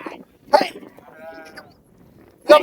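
A sheep gives a wavering bleat at close range, framed by short sharp noises and brief human voices.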